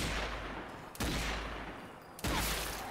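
Zombie Army game gunfire as zombies are shot, two sharp heavy shots about a second apart over a steady loud rumble of battle noise.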